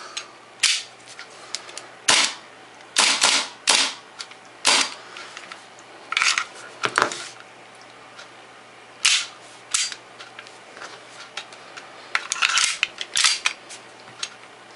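Sharp hammer clicks come from dry firing an empty WE 1911 Commander airsoft pistol, about a dozen close, crisp snaps at an uneven pace with small handling sounds between them.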